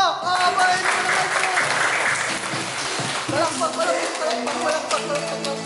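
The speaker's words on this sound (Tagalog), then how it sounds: "Palakpak!" A group bursts into applause, a thick wash of clapping that holds steady for several seconds, with voices and shouts mixed in underneath.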